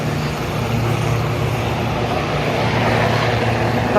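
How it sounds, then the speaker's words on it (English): A helicopter lifts off in New York City, a loud steady low engine drone with a rumbling rotor beat that fills the street for about four seconds, close and continuous with no voices. "Helicopter just took off."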